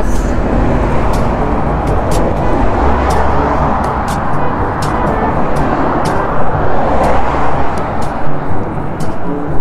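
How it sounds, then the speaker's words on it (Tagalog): A bus and other traffic passing along Sai Kung Road in Hong Kong, a loud, continuous roadside roar of engines and tire noise that swells and eases as vehicles go by. "Ayan na naman isang bus."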